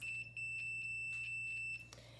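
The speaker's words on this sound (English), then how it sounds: "if there is a circuit that connects these two leads together, it will beep" A continuous high electronic beep tone from a multimeter continuity test sounds steadily for under two seconds, briefly interrupted once, over a low background hum.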